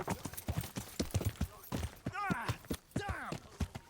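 Horse hooves clip-clop in the medieval video game Kingdom Come Deliverance, a quick, close rhythmic patter of hoofbeats with brief vocal-like groans rising over it.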